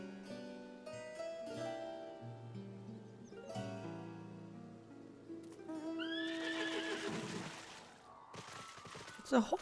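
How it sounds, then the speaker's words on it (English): Winged horse mount in Final Fantasy XIV, a clear rising neigh and whinny over game music, followed by hoof clip-clops near the end, with talk heard alongside. "It's a horsey with wings."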